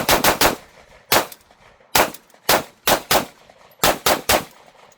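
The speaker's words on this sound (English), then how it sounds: "I want to show you guys how that shoots on rapid fire" A pistol fires rapidly at an outdoor range in Israel, about a dozen sharp, loud shots in quick clusters of two and three, separated by brief pauses.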